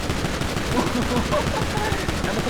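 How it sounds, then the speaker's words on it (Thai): Deadpool fires guns from his hands in a GTA V mod, a dense, continuous burst of rapid gunfire close up, with a voice talking over it. "นี่นี่ยิงปืนจากมือได้ฮะ"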